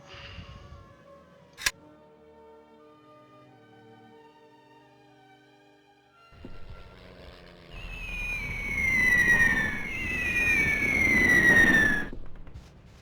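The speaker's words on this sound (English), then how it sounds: "A bombing run that I didn't know about." Explosions from a bombing run in the Hidden & Dangerous video game. After a sharp early crack and a quiet stretch, loud rumbling blasts build up alongside whistling, descending tones, then cut off abruptly.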